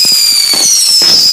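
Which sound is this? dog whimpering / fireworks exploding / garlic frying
fireworks exploding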